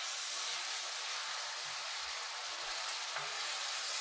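Celery frying in a cast iron pan, a steady close hiss and sizzle running evenly throughout with a few faint low knocks underneath and no talk.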